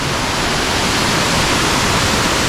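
Tad Thong waterfall in the forest near Luang Prabang, Laos, roars as a dense, steady, close rush of falling water with no voices.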